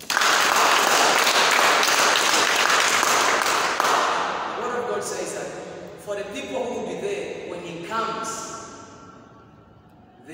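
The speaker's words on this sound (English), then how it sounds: "You can clap for yourself." A church congregation breaks into loud, sustained applause that fills the first few seconds, then thins into scattered claps and fades away, with voices talking and murmuring underneath.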